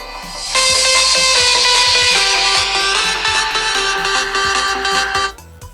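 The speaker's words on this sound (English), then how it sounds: "You can hear a little bit of bass coming out of that speaker, actually." Music plays through the small built-in speaker of a Google Pixel XL phone, loud tonal notes with a light beat that stop abruptly near the end.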